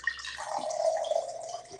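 Water pours out in a thin, trickling stream, a light splashing flow that runs for a couple of seconds at moderate loudness, heard close with no talk over it.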